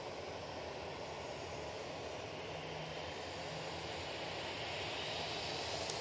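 Steady, faint aircraft engine roar heard from a plane spotting spot at Manchester Airport, a continuous distant drone with no talking over it.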